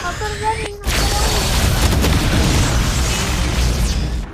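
A smoke ability thrown in Valorant lands with a loud burst and then a sustained dense hiss that fills the rest of the clip, following a short tonal game cue.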